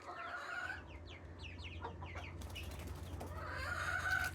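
Baby chicks peeping and clucking while flapping their way out of a brooder box, a run of quick chirps, rustling wings near the middle, then brighter cheeping, all close and quiet over a low hum.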